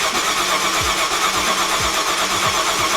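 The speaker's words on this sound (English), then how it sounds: "we're gonna try and start it for shits and giggles" Ford Mustang with a Coyote engine cranking without firing, a steady churning starter whir with repeated low rhythmic pulses, close and loud throughout.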